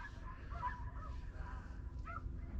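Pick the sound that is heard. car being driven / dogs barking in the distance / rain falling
dogs barking in the distance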